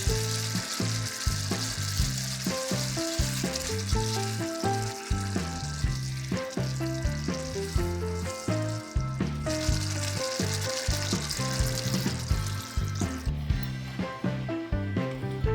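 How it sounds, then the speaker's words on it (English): Vindaloo paste and a cup of water hit a pan of pork and chopped tomatoes with a steady hiss of sizzling, partly covered by rhythmic background music. "Now add the vindaloo paste and 1 cup of water."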